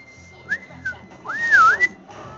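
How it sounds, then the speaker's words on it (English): A person whistles a short, sliding melodic tune during a Saints Row playthrough, with a few brief rising and falling notes and then one longer wavering phrase, close and clear over faint game background. "Yes, I can whistle."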